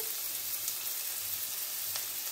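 Egg pasta mixture frying in a pan with salt and pepper, a steady, soft sizzle running evenly throughout at low volume with no voices.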